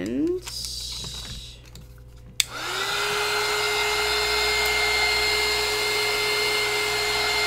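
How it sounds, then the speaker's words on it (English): A heat gun blowing on Elmer's glue crackle paint starts with a few clicks and handling noises, then runs as a loud, steady blowing roar to the end, with a voice heard under it. "I'm going to take my heat gun"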